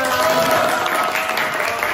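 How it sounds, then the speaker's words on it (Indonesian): Brief burst of classroom applause from students, dense clapping that rings out for about two seconds before stopping abruptly. "Tepuk tangan."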